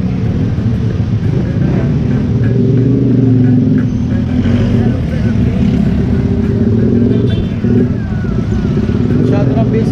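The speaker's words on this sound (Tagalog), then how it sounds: "Super traffic." Busy road traffic at a public market early on a school-day morning, with cars and motorcycles: a loud, continuous rumble of engines passing nearby, with voices talking over it.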